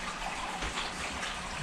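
Aquarium water sloshes and splashes steadily as a hand is dipped and wetted in it, a close, continuous watery wash with no talking.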